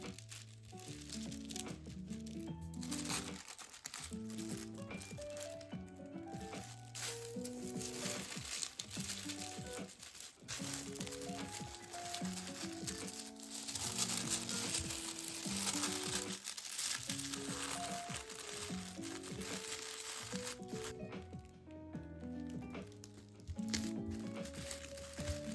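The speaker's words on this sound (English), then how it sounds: "here is some crunchy paper for your listening enjoyment" Crunchy paper is crinkled and crumpled up close for a long stretch, with soft, irregular rustling and crackling bursts at a quiet level.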